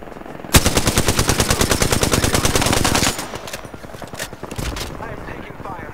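Incoming gunfire in the video game Apex Legends: a sudden loud burst of rapid automatic shots lasting a few seconds, then scattered quieter shots and game noise.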